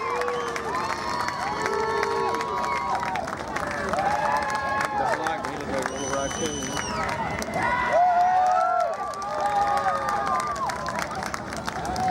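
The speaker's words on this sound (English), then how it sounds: "Give me a big round of applause." Crowd at a dirt track speedway during a modified feature, cheering, shouting and scattered applause in a lively, continuous mix for about twelve seconds, with children's voices and chatter throughout.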